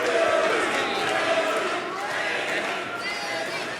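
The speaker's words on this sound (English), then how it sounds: "The crowd rallying behind Billy Starks now here at the sold-out Hammerstein Ballroom" A sold-out wrestling crowd at the Hammerstein Ballroom cheers and chants in a loud, echoing roar that eases slightly midway, with faint voices mixed in.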